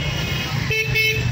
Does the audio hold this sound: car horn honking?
yes